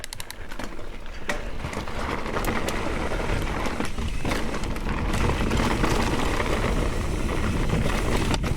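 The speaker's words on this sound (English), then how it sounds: "I'm gonna go ride my bike now." A mountain bike rides a rough trail, giving a steady, loud, close rumble of tyres and rattling frame mixed with wind noise throughout.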